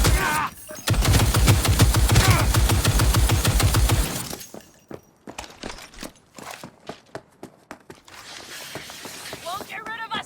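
Rapid automatic gunfire in Cyberpunk 2077, a loud dense burst of shots for about four seconds, followed by scattered single shots, impacts and shattering debris, with battle voices mixed in.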